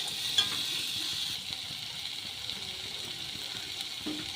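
Ingredients fry in oil in a wok, with a soft, even hiss of sizzling that holds steady and fairly quiet, plus an occasional light clink.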